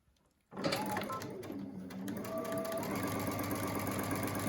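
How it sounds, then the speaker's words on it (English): A sewing machine runs steadily after a brief quiet start, stitching a 1/4 inch seam along the curved edges of surgical mask pieces, with a continuous close whir that holds through to the end. "You will then take each of these sections on the round side and sew them together with a 1/4 inch seam."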